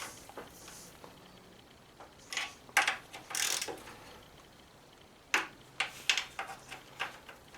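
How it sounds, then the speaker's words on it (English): A 1/4 drive ratchet tightens a gasket bolt on a classic John Deere 130 mower, with scattered bursts of close, sharp clicking separated by short pauses. "it's getting a 1/4 drive ratchet, and it's getting wrist tight"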